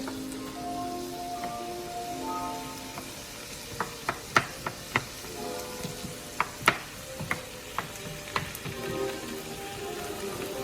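Vegetables cook down in a pan for lasagna, giving a steady soft sizzle with scattered crisp pops and spatters throughout.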